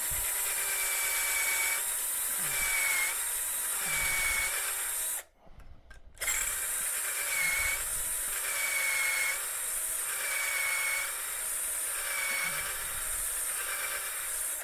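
A drill bores a dowel hole through the collar of a Dowelmax Jr doweling jig, a steady high whine with rhythmic pulsing, briefly stopping mid-run before spinning up again.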